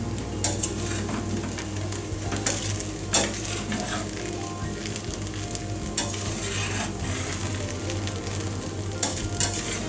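Onion rice with squeezed lemon juice sizzles continuously in a hot pan while a spoon stirs it, with scraping clicks against the metal recurring every second or two, close and loud.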